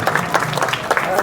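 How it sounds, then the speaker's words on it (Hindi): Audience applause for top-ranked students at a Baba Ramdev Public School awards ceremony, a dense, steady wash of many hands clapping with a few louder swells, continuous and fairly close throughout. "तालियां बजती रहनी चाहिए, एकदम गड़गड़ाहट पूरे मोहल्ले को सुनाई पड़े"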